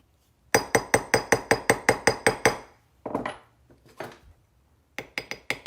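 A ball peen hammer strikes a metal pendant stamp in quick, evenly spaced ringing taps, about a dozen in a row, then a pause with a few scattered knocks and a short final burst of taps, close and bright.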